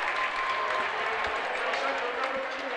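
A crowd at a varsity boys' high school basketball game, Lyons Township against Hinsdale Central, applauds and roars in a steady wash of noise throughout, with a commentator talking over it.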